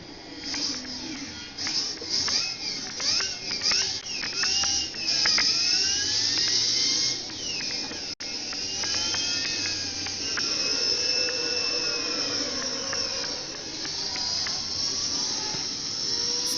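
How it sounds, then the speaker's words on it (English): A sofa-shaped car in a video game gives off a loud, steady jet-engine-like roar with hissing and rising and falling whines, continuous for the whole stretch apart from a brief dropout midway. "Sounds like one of those couches has a jet engine on it."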